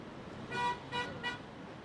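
An arriving car honks three short, fairly faint toots in quick succession over quiet background noise.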